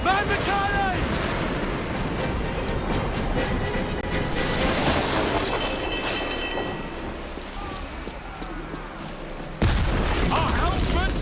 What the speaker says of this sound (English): Man the cannons!